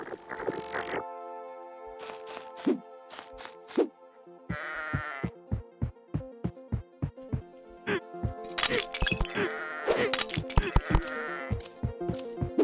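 Cartoonish sheep bleat repeatedly in the video game Lila's Sky Ark, with short tonal calls mixed among a quick run of plinking game sound effects, all crisp and close with no talk.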